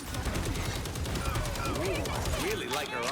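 Rapid automatic gunfire from the Punisher in the hero shooter Marvel Rivals, loud and continuous bursts of shots under in-game effects and a talking voice.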